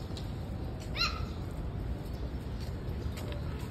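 A single short bird call rings out once at Manila Zoo over a constant low rumble of background noise and distant traffic-like hum.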